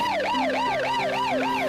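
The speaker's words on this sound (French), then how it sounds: "l'ambulance évacue les autres accidentés" Ambulance siren wailing loud and close in a steady, continuous rising-and-falling sweep, repeating about every third of a second with a constant engine drone beneath, no voices.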